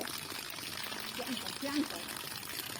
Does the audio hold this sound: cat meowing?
no